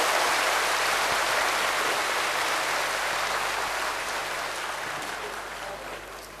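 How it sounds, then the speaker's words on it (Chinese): Loud audience applause at a large Buddhist Dharma assembly in Singapore, a dense, steady roar of many hands clapping that fills the space and slowly fades toward the end. "我们一起以热烈掌声感谢慧律大师慈悲赐予摄受。"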